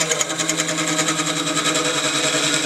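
A rapid, steady rattling chatter of a lathe tool bouncing against a spinning spalted oak rim, loud and close with a fast regular pulse.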